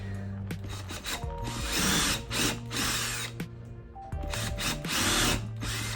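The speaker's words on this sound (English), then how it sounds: "just take our drill and make some pilot holes in the heel block for the pins or the horseshoe nails to go in" A Ryobi power drill bores pilot holes into a boot's heel block for horseshoe nails, with close, loud whirring that shifts pitch as the motor speeds and slows, plus grinding as the bit cuts through.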